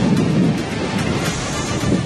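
Heavy rain and gusting wind from a thunderstorm lashing a city in Hubballi, Karnataka, a steady, loud broadband roar of downpour and buffeting gusts with no distinct thunder crack, and no voices.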